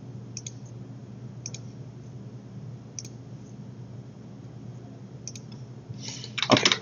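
Computer mouse clicks while a floor member is added to a bridge model in structural design software: sparse, sharp, faint single clicks spread out over a low steady hum, then a brief cluster of louder clicks and rustling at the end.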